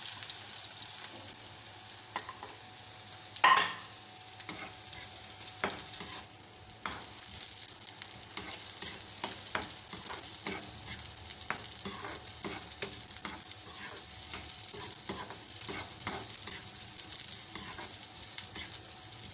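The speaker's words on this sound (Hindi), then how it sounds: "जैसे ही प्याज थोड़े से नरम होंगे, डार्क ब्राउन थोड़े से ब्राउन होंगे" Onions fry in a pan with a soft, steady sizzle, broken by a sharp clank early on and frequent light scraping stirs and taps, close but fairly quiet, with no voices.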